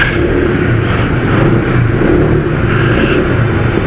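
A Honda ADV160 motorcycle engine runs steadily at a parking area in Tiendesitas, a close, continuous mid-pitched rumble with slight revving swells and no talk.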